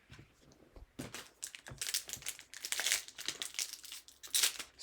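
A trading card booster pack wrapper being torn open and crinkled close up, with bursts of crackling plastic that grow busier and louder toward the end.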